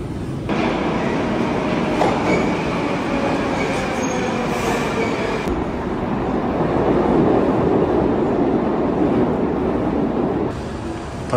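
A Moscow metro train rumbles loudly through a tunnel, with steady roaring wheel noise, clattering and a high squeal at times.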